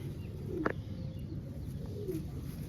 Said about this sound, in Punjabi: ਆ ਗਿਆ ਜੀ ਆਪਣਾ ਵੱਡਾ ਕਬੂਤਰ ਸਭ ਤੋਂ ਪੁਰਾਣਾ ਕਬੂਤਰ